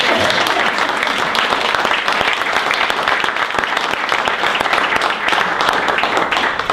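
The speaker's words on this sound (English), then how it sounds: "I think we all need to give Patrick a round of applause" Audience applause fills a city council meeting in Fillmore: a loud, dense, steady round of clapping that holds without a break for about seven seconds.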